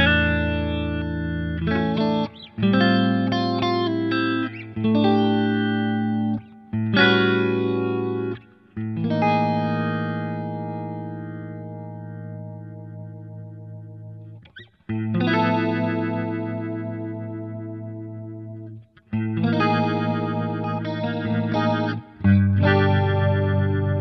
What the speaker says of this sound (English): so this is just a Leslie sound in the slow mode